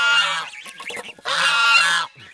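A flock of geese, many of them young white ones, honk loudly and close up in two harsh, raucous bursts with a brief gap between them.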